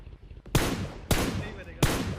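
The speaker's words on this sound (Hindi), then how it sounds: "मैंने इस बॉट को लगभग 80 गोली मारी है" Gunfire in PUBG Mobile as a player fires at a bot, three sharp loud shots spaced about half a second apart, each followed by a brief noisy tail.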